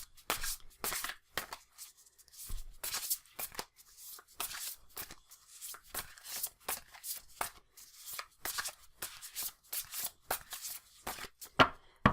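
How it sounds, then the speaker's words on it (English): Tarot cards are shuffled by hand up close in a quiet room, giving rapid, irregular bursts of crisp riffling and slapping that come in short repeated clusters with no talk. "shuffle just these 8 cards before laying them out"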